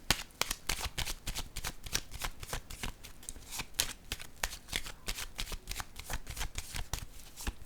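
Tarot cards riffled and shuffled close up in a long, steady run of quick papery flicks and snaps, fairly quiet, with no voices.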